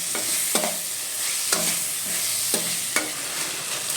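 Chicken with salt sizzles steadily in a hot pan while a utensil stirs it, scraping against the pan in regular strokes about once a second, close and without talk.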